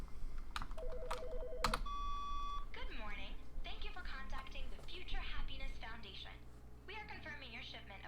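In The Stanley Parable: Ultra Deluxe, a phone rings in short repeated electronic trills, followed by a clear sustained beep tone, after which a voice talks over a quiet background.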